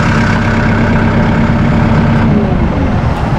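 A Massey Ferguson 2E.60 Synchro Shuttle compact utility tractor idles close by, its engine holding a steady, even low hum and drone with no change in speed.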